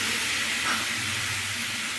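Water poured into a hot pan of frying turnip and potato curry with ground spices, giving a steady broadband hiss and sizzle that holds evenly throughout, close and moderately loud, with no talking.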